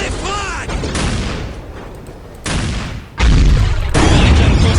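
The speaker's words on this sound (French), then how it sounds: "Grenade! Les frags." Frag grenades go off in Warhammer 40K gameplay with deep, loud booms and rumbling blasts that come in bursts, mixed with game sound effects. There is no clear speech.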